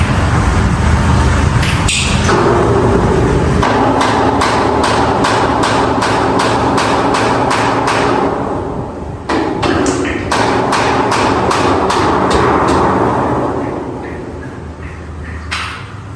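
Repeated sharp strikes of a hammer on metal ring out in an irregular series, loud and close, with brief pauses between bursts of hammering.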